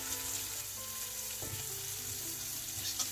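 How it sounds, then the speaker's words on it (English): Plaice shallow frying in extra virgin olive oil over gentle heat, a soft, even, continuous sizzle close by with a couple of faint low knocks of the pan. "Gentle shallow fry."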